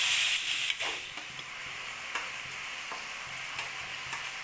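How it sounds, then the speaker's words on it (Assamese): Chicken pieces stirred in a hot pan with turmeric and salt, a steady sizzling fry with soft scraping strokes of the spoon at irregular intervals, close and moderately loud. "হালধি আৰু নিমখ দিয়াৰ পিছত ভালদৰে মাংসখিনি অকণমান লৰাই ল'ব।"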